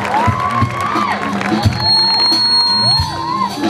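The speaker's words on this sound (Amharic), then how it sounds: "እስቲ አጨብጭቡ ለጌታ ክብር" A church congregation in Debrezeit, Ethiopia, cheers and whoops in praise, with rising and falling shouted voices layered over a loud, steady crowd roar.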